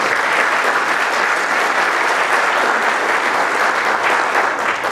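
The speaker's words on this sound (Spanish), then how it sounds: "un fuerte aplauso." Loud, sustained applause from the audience at a national constitutional law congress, a dense even wash of clapping filling the whole stretch without a break, no voices over it.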